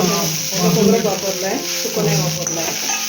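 Grated coconut roasting in a pan, giving a soft, steady sizzle and hiss throughout, partly masked by a person talking over it.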